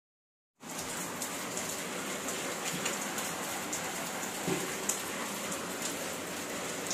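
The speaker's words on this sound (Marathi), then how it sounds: "थांबा मी दाखवते किती जोराचा पाऊस आहे." Heavy rain pours down outside, a steady, loud and dense hiss that runs unbroken for the whole stretch with no voices.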